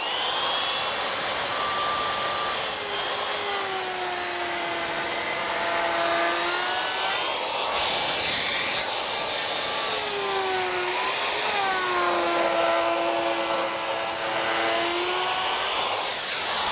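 A power trimmer routes along the laminated edge of a particle board shelf, giving a steady, loud high-pitched motor whine with shifting tones as the cut moves along the edge, continuous throughout with no talking.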